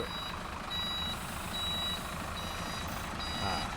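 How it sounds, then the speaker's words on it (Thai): A trailer truck backs up while its reversing alarm beeps steadily, in evenly spaced high tones, over a low rumbling engine. "น้องเจนก็จะถอยเข้าไปครับ"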